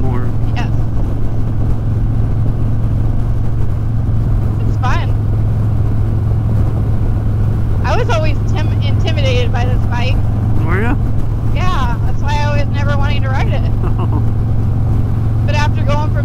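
Steady motorcycle engine drone and road rumble on a Harley-Davidson Deluxe ride, continuous and loud throughout, with bursts of chirping birds or squeaks above it and a voice talking at times.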